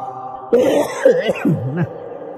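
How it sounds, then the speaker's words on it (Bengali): A man coughs and clears his throat during an Islamic sermon (waz), a few rough, voiced bursts following a quiet pause, close and fairly loud. "কাশিটা তো বন্ধই হচ্ছে না"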